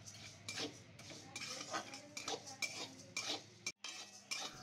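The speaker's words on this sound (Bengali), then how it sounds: "শুকনো খোলায় 5 মিনিট ডালটা ভেজে নিচ্ছি।" Masoor dal dry-roasting in a kadai over a low flame, a spatula scraping and stirring the lentils in repeated close rasping strokes with faint metallic clinks, no talking.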